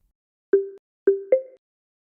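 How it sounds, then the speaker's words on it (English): A cradle device playing its startup chime after booting: three short clean electronic tones, two matching notes and then a slightly higher one, in an otherwise silent room. "The startup sound will indicate cradle is ready for use."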